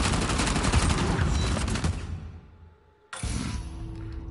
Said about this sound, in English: It's just full explosions.